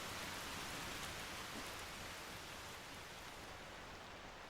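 Steady rain falls in the Minecraft video game, a dense, even hiss of rainfall that stays constant and fairly quiet throughout, with no voices.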